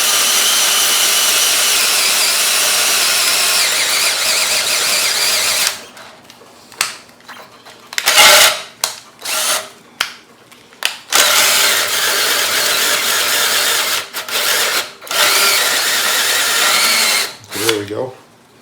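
A battery drill cuts through sheet metal with a loud, steady high whine that stops, followed by short bursts of drilling, clicks and metal rattles, and someone talks between the bursts.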